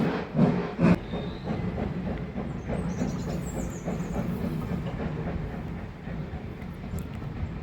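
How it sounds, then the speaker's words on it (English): A heritage steam train passes beneath the Bury tram stop on an underpass, its wheels clicking in a steady clickety-clack rhythm with a low rumble and faint steam hiss, moderately distant and without talk. "I seriously did not expect to be able to film a heritage train today."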